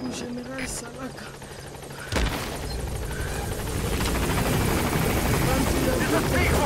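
In Metal Gear Solid V, a support helicopter arrives at a landing zone, its rotor thrum swelling and growing louder after a sharp burst, mixed with gunfire-like cracks and game voices.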